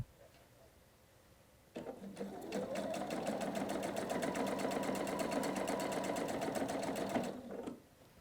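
A sewing machine stitches a quarter-inch seam on a quilt block, starting after a quiet pause. It runs in one fast, even, rattling burst of about five seconds, then stops, with no voices.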